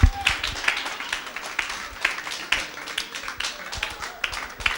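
Church congregation applauding, scattered and uneven claps at moderate distance with irregular peaks, a sermon setting with faint room murmur beneath.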